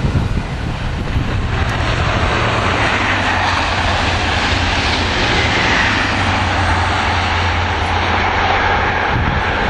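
A Grand Central train passes Werrington Junction heading north toward Sunderland, a loud, close, sustained roar of engine and wheels on rail that fills the whole stretch without letting up.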